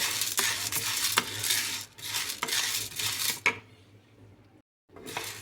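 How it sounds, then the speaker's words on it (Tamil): Chana dal being dry-roasted in a pan, with steady scraping and stirring, dry grains rattling against metal in bursts, then a brief pause before the stirring resumes. "கடலைப்பருப்பு வச்சுக்கலாம் லைட் ப்ரௌன் வந்து நம்ம எடுத்து வச்சுக்கலாம்"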